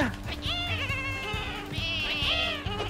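Sheep bleat in the video game Lumberhill, several wavering, harmonic bleats in close succession, loud and near, with game sounds around them.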